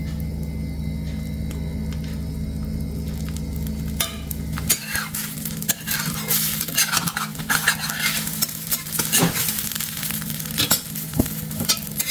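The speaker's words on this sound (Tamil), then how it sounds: "நார்மலான ஆம்லேட் எப்படி மேக் பண்ணுவோமோ அதே மாதிரி தான்." An omelette of beaten egg with capsicum, onion, turmeric and salt fries and sizzles in a pan, with steady stirring and scraping clatter of utensil against the pan, close and continuous with no talking.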